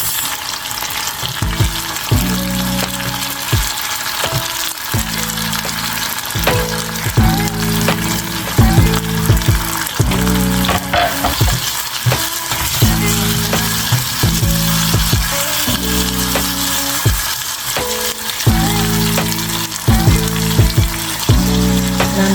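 A pepper mix for yam pottage fries in a pot with a loud, continuous sizzle, broken by repeated stirring scrapes and clatters that recur at a loose rhythm, close up and without talk.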